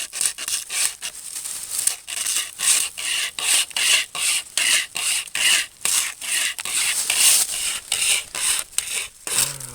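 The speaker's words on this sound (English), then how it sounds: "now we're trying out a survival tool. So The pocket chainsaw." Rapid rasping strokes of a pocket chainsaw chewing through a small log, steady back-and-forth rhythm, close and fairly loud, with no talking.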